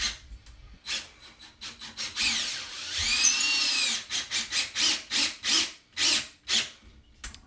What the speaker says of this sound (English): Don't forget the lag screw that goes into the stud.